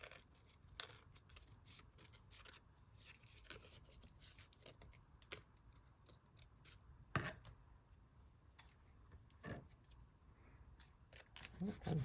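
Scissors snipping through thick paper while making a vintage collage, a series of short crisp cuts and scratches at close range, with quiet background noise throughout.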